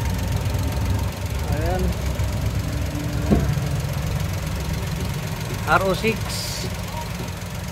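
A Suzuki Wagon R hybrid's non-turbo engine idles with a steady low hum close by, a faint rhythmic knock underneath, while someone talks over it.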